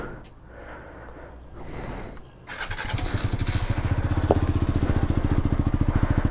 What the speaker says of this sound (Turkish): Motoru açalım.